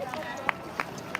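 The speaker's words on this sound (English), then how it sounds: "Yeah, we love the cheering there." Runners at the 2022 Boston Marathon pass by as a crowd noise swells in the background, and a few sharp claps or footfalls punctuate a steady babble of spectators, with people talking nearby.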